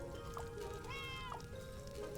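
A cat meows inside the video game Starsand Island, with a couple of short cries over a steady in-game background of ambient music and faint water.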